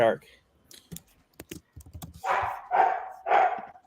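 Dog barking three times in a row, loud and nearby, following a quiet stretch of clicks and light typing-like taps.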